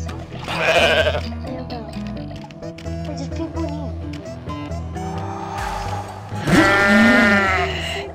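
In the video game Goat Simulator (GoatZ), a goat gives two loud bleats, one near the start and a longer, rougher one near the end, over game music with a screech-like effect.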